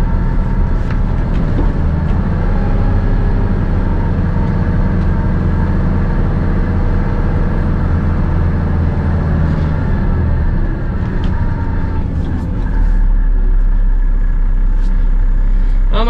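Steady, loud low rumble of a truck engine backing up to a trailer, a continuous heavy drone with no voices, holding constant throughout.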